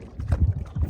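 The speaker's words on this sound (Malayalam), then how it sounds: "ആ ബോട്ടാണ് നമ്മളെ രക്ഷിക്കാൻ വരുന്ന ബോട്ട്" A rescue boat approaches across open water toward a stranded Sea-Doo jet ski rider, its engine a low, rumbling drone mixed with wind buffeting the microphone over one short second.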